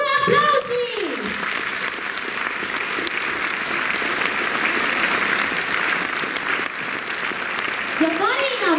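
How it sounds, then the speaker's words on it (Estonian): An audience at a children's dance club performance gives loud, sustained applause for several seconds, with speech at the very start and again at the end. "Teeme suure aplausi."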